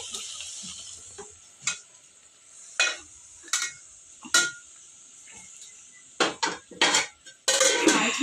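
Roasted chicken fry being stirred in a pan, the pieces soft enough to tear apart, with a run of scraping, clinking utensil strokes against the metal pan and a faint sizzle, picking up into denser bursts toward the end.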